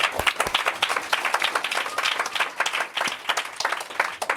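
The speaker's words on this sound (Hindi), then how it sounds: "तालियां बजाएं" A church congregation claps after a sermon, a dense, lively burst of many hands applauding together, fairly close and loud, with uneven rhythmic surges and a few individual sharp claps standing out over several seconds.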